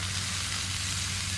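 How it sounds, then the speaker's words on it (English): A fish fillet fries in a pan with lemon juice squeezed over it, giving a steady, dense, close sizzle that holds evenly throughout, with no talking. "See how it's sizzling?"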